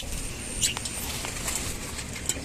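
Restless birds shuffle and flap inside a bird house after a night storm, with soft dove-like coos and brief wing flutters over a steady, low background hum. No one speaks.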